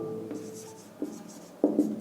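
Chalk or marker scratches and taps on a board during a class 10 maths lesson on triangles, with a few short close strokes and no talk.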